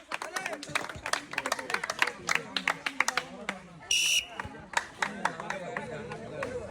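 An audience at a village prize-giving game claps in quick, scattered bursts, with a crowd murmuring around the applause and a brief whistle partway through.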